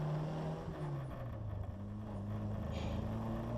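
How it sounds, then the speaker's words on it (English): A rattly, noisy Austin-Healey Bugeye Sprite drives along, its engine droning steadily with shifting pitch under a constant rough road hum and rattle. "the car's pretty rattly and noisy"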